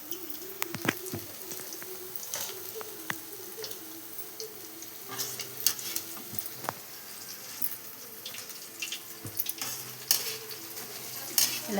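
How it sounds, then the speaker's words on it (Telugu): Food frying in a pan while being stirred, with a steady sizzle punctuated by scraping clicks and taps, no talking. "ఇలా బాగా వేగనివ్వాలి."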